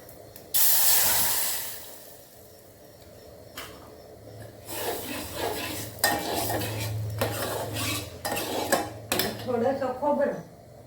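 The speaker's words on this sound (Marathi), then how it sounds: "आता ही डाळ त्याच्यात ओतते।" Dal is poured into a hot pan of Malvani-spiced tempering, setting off a loud burst of hiss and spatter followed by clinking and scraping of utensils against the pan, with a low hum beneath.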